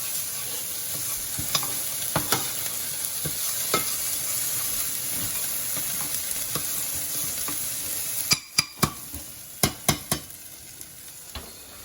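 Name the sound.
onions being stirred and fried in a pan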